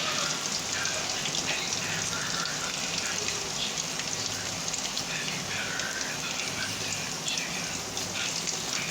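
Steady crackling sizzle of chicken frying in hot peanut oil, dense and even throughout, heard up close with no talking.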